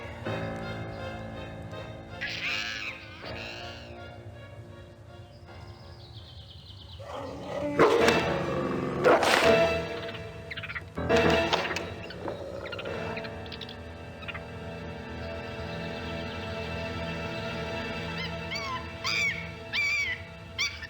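Wolf barking and whimpering in the video game Gabriel Knight 2, with several sharp close barks and whines scattered between quieter stretches over a soft ambient background.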